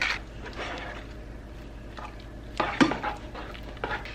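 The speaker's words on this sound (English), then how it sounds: "You're going to stir that in." A spoon stirs cream cheese into potatoes in a pot, giving soft scraping and clinking strokes that come in short bursts, with a louder clatter near the end.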